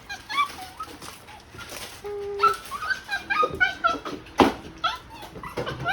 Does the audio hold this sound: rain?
no